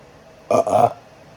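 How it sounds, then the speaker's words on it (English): A single short human burp, close and fairly loud, lasting about half a second in two quick pulses against near silence. "Excuse me, I burped."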